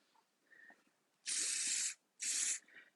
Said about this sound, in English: I've put that shine spray through